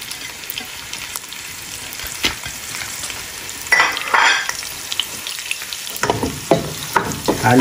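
Onion and garlic, cooked in separate batches and then combined, stirred while frying in a pan, with a steady broadband sizzle and irregular scraping stir strokes that grow louder partway through.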